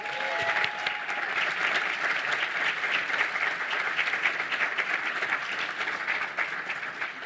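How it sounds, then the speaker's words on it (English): A meeting audience applauds steadily as chapter representatives stand at an annual design association meeting, with continuous, dense clapping from a large crowd filling the whole stretch. "would representatives from those chapters please stand? And then we can clap more."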